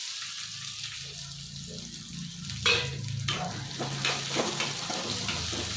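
Onion, garlic, curry leaves and chana dal fry in hot oil with a close, steady hiss. A sharper burst of sizzle about midway is followed by softer stirring scrapes over a low background hum.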